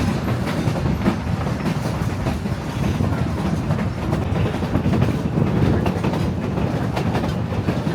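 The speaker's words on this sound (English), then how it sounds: "The train has kind of a relaxing rocking motion to it." A Durango & Silverton narrow gauge train rolls along its tracks with a steady, loud, close rumble and a faint rhythmic clatter of wheels over rail joints that continues without a break and without voices.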